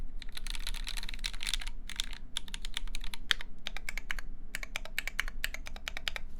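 Close, brisk mechanical keyboard typing on a Canoe board with Zeal Zephyr switches and a brass plate, giving a somewhat hollow clack in bursts of rapid keystrokes separated by short pauses.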